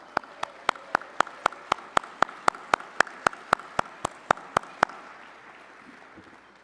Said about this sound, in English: Let us give them also a hand of applause.